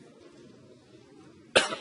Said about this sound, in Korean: 국회 답변을 위해 단상에 서자마자 기침을 합니다